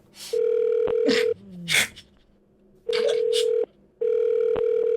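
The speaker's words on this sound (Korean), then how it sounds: "악어 전화해볼까" A phone call rings out in long, steady electronic tones at near-constant volume, interrupted by gaps where people react with a gasp and brief vocal sounds.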